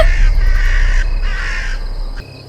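Crows caw several times at the ruins of Bhangarh Fort at night, their harsh calls fairly close over a steady low rumble of wind or ambient noise that drops away near the end.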